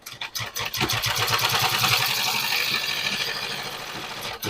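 An electric sewing machine runs a double line of stitching along the elastic waistband of a palazzo, its motor giving a steady, close whirring hum for several seconds without a break, with no talking.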